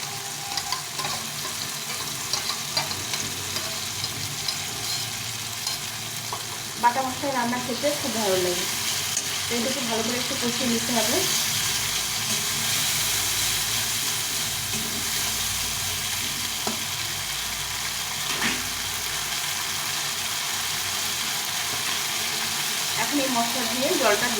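Paste of raw red chilli, ginger and cumin frying in a pan for rohu fish curry in tomato gravy, a continuous loud sizzle with occasional stirring, while someone talks intermittently over it.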